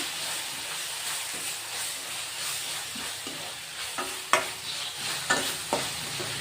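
Softened tomatoes with turmeric are stirred in a sizzling pan for mandakki usli, a soft continuous frying hiss with sharper spoon scrapes and knocks toward the end, no talk.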